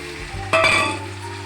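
Boiled tomatoes dropped into a hot pan with cumin, ginger-green chilli paste and bay leaves, bursting into a sudden loud sizzle that fades gradually over a second, close up with no talking.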